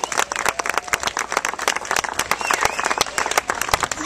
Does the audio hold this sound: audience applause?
yes